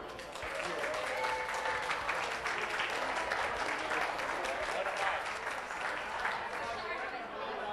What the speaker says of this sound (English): I'd like to, by applause, how many people enjoyed the wine more than they enjoyed the beer?